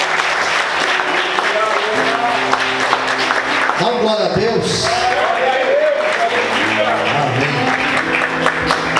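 Church congregation applauding during a morning service, continuous clapping under a preacher's voice and sustained keyboard chords, with shouts of praise rising briefly in the middle.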